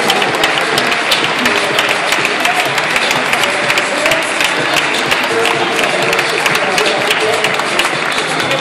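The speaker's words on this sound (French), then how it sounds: "Oui, je crois qu'on peut l'applaudir." A large audience at Black Fashion Week Montreal applauds a designer's collection, with dense sustained clapping and loud crowd noise that continues throughout.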